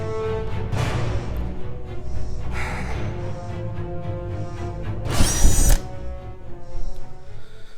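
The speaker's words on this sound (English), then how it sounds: "Gotta make it just a little bit bigger with a step drill." A step drill enlarges holes in the rear body of a C6.5 Corvette while fitting a wickerbill spoiler, giving a steady close-up whirring grind with brief louder bursts as the bit bites in, with no voices over it.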